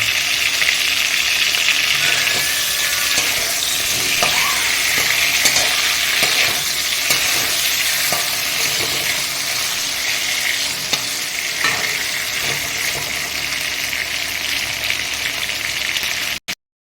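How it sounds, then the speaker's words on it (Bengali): Four large hilsa fish heads frying in a pan, a loud, steady, close sizzle of hot oil running throughout with occasional stirring ticks and no talk. "আমি চারটে বড় মাছের মাথা দিয়েছি এটা একটু ভেজে নিয়ে তারপর মশলাটা করবো"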